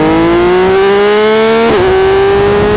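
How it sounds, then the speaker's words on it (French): A Yamaha MT-09 motorcycle fitted with an Akrapovic carbon exhaust revs loud and close, its engine note climbing steadily, then dipping briefly with a sharp change before settling back into a strong, sustained drone. "vous laisser juste le son qui est dans le sac pour que vous ayez du coup le meilleur rendu possible du son du pot"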